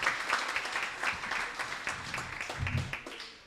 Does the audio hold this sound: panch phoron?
no